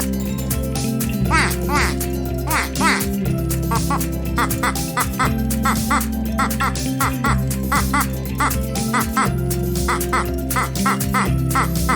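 A cartoon-style duck quacks repeatedly in quick bursts over steady music, probably voiced by a person imitating the call, loud and up front.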